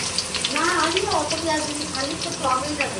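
Onions hiss and sizzle steadily in a hot pan at close range, while people talk throughout over the frying.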